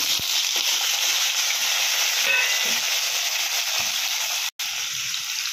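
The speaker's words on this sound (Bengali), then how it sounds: "এবার এই ডুমো করে রাখা আলুগুলো দিয়ে দিলাম।" Diced potatoes frying in oil tempered with cumin, torn bay leaf and dried red chilli, a steady bright sizzle with scattered soft stirring knocks and a brief dropout near the end.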